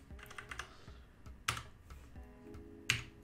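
Typing on a computer keyboard: irregular soft keystrokes with a few louder, sharper key presses, close and quiet, with no speech.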